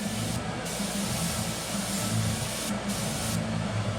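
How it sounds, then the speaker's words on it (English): Steady hiss of an airbrush spray gun laying down paint for small grass strokes, continuous and close, with a few brief dips in the high air noise as the trigger eases. "my spray gun is really acting up."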